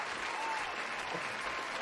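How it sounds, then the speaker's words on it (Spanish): Studio audience applause on a Spanish-language podcast, a dense, steady wash of clapping that holds at an even level for under two seconds, with no talk over it. "Fuerte el aplauso para lo que van a acabar de ver de Sheila."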